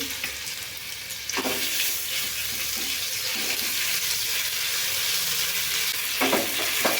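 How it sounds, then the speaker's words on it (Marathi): Ginger-garlic paste fries with asafoetida in a hot pan, making a loud, continuous sizzle. A couple of scraping stirs break through the hiss, and no one speaks. "आलं लसूणचा रॉस मेल जाईपर्यंत आपल्याला हे व्यवस्थित भाजायचं"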